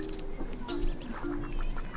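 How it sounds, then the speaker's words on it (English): Baby ducks with their father duck at a park by a lake give brief, close calls, a few quick peeps and quacks over light outdoor background noise. "Baby ducks!"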